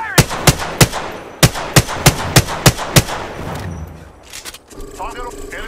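About a dozen loud, sharp gunshots from Apex Legends fire in an even semi-automatic rhythm, then give way to scattered quieter game noise and a brief voice.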